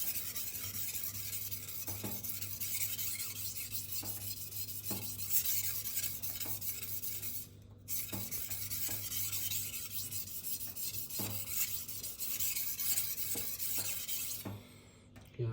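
A knife edge is sharpened against a stone in repeated rasping strokes, a gritty scraping rhythm of roughly one stroke every second with a short pause midway, close and fairly loud over faint background noise.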